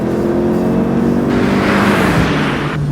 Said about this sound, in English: I'm gonna go ahead and do a quick third gear pull and just see where our PSI is at.